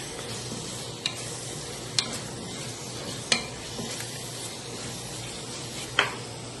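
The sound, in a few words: sautéing ginger garlic paste in a pressure cooker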